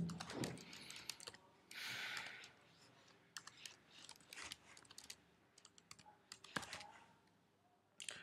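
Keys clatter on a computer keyboard as an email address is typed into a Facebook registration form, quiet and close, in uneven runs of taps with a few louder clicks and pauses.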